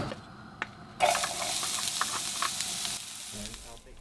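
Onions hitting smoking-hot oil in a pan for fried rice burst into a loud, steady sizzle after a quiet second, holding strong before easing off near the end.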